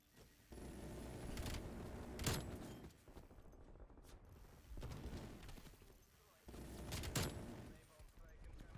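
The Death Machine minigun in Call of Duty: Black Ops Cold War fires in three long sustained bursts of rapid gunfire, close and loud, separated by brief lulls.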